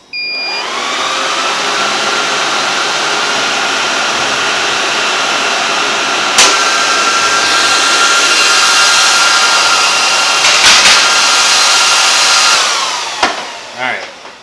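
An enterprise rack server with hot-swappable fans powers on, its fans spinning up into a loud, steady whine with tonal hum that holds for over ten seconds before winding down, with a few clicks in between.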